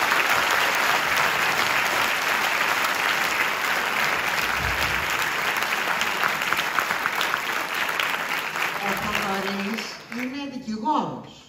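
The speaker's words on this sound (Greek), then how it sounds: "θέλω το πιο θερμό σας χειροκρότημα, γιατί είναι μια πολύ σπουδαία ομάδα." A concert audience gives warm, sustained applause for the Vamos orchestra, a dense wash of clapping that holds for about nine seconds before fading as a voice starts speaking.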